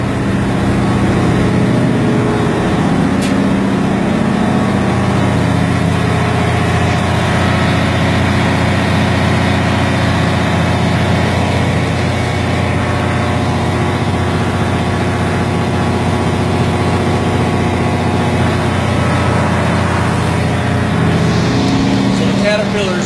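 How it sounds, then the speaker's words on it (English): Caterpillar diesel generator engines run in the engine room of the ship YWAM Liberty, a loud, continuous low rumble close by with steady mechanical drone and a voice talking over it. "the caterpillars here are the generators"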